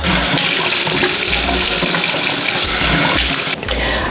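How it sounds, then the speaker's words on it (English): Water from a tap runs steadily into a sink while face cleanser is rinsed off, a loud continuous splashing rush that abruptly drops in level near the end. "I'm just going to rinse this off."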